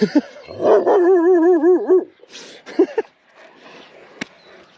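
Dogs that ran up behind a walker bark and whimper close by, starting with sharp barks, then a drawn-out whining howl, then a few scattered yips and barks.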